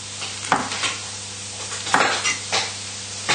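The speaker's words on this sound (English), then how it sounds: "livers are popping away, like you can probably hear mine in the background" Chicken livers sizzle and pop in a frying pan, a steady hiss punctuated by several sharp spitting pops and a few scrapes of a utensil against the pan.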